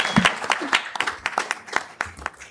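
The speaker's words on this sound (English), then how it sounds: "A round of applause for the audience." Audience at a startup valuation talk gives brief applause: a short burst of distinct, fairly close claps with uneven rhythm, some voice mixed in.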